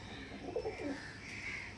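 Domestic pigeons of the Andhra Kalshira Punjabi high-flyer breed coo softly in a loft, a couple of low rolling calls rising midway over a steady background hum.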